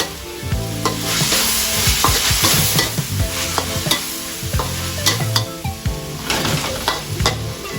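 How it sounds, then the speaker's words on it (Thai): Minced pork stir-fried with dissolved shrimp paste in a hot pan, a steady sizzle under repeated scraping and clacking strokes of a spatula, close and lively, with no talking. "กะปิที่เราละลายนะครับ ลงไปเลย ก็ผัดครับเพื่อน"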